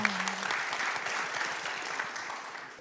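Audience at a Korean fire agency new-year ceremony applauding, a steady, moderately loud round of many hands clapping that fades slightly toward the end.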